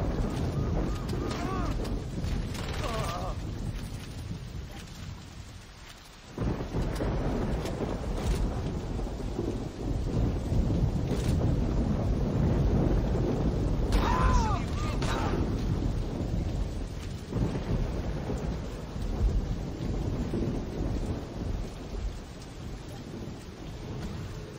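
Rain falls steadily in the video game Saints Row, with rolling thunder rumbling several times. Someone talks over the storm throughout.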